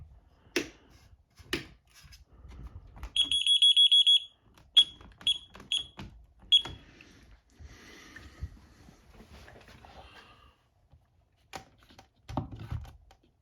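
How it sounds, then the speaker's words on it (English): A security system alarm sounds during a test, giving a piercing tonal beep held for about a second, then several short repeated beeps, amid clicks and handling noises and brief faint voices. "We're doing a quick test on these alarms"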